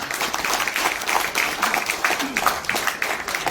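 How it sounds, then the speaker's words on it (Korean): An audience at a forest administration society award ceremony claps briefly, a dense crowd applause blended with room noise and a voice speaking over it. "네, 박수 부탁드리겠습니다."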